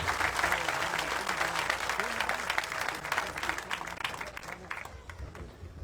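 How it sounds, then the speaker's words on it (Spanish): Audience applause at a church question-and-answer event with a priest in Mérida, Venezuela, steady dense clapping from a crowd that thins and fades toward the end, with a voice speaking under it. "Un aplauso fuerte para este hermano."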